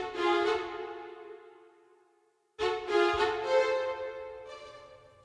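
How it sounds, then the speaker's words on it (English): Sampled string section playing short notes, moving from a slurred phrase into detached staccato strokes, two bright bursts separated by a brief silence, clear and close with no talking. "you can use this patch to simulate a slur to a staccato articulation, and it sounds like this"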